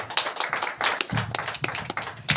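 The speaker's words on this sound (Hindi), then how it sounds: "राजेंद्र जी के लिए भी जोरदार तालियां।" Audience clapping at a testimonial event in Shimla, a short burst of hand claps filling a room, fairly dense and steady for a couple of seconds with no talk over it.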